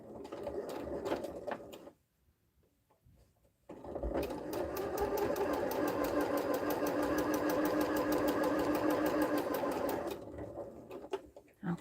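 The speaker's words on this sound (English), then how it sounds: "I'm just going to sew one of them right now." A sewing machine stitches fabric pieces together with a quarter-inch seam allowance, running close and steady in two bursts: a short run, a brief pause, then a long continuous stretch of rapid stitching.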